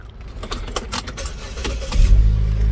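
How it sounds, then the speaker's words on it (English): Keys jangle close by for a couple of seconds, then the engine of a 2018 Buick Cascada cranks and catches, settling into a loud, steady idle. "Let me start the car."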